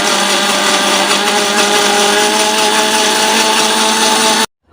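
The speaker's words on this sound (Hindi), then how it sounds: "और अब हम ग्राइंडर चला देते हैं।" An electric grinder blends a guava juice of ripe guavas, running as one loud, steady motor whine for over four seconds and then cutting off abruptly into silence.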